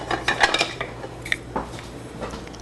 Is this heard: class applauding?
no